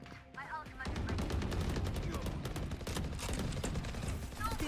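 Sustained gunfire from Valorant: a dense, continuous burst of rapid shots running for several seconds at steady loudness, with brief voice traces at the edges.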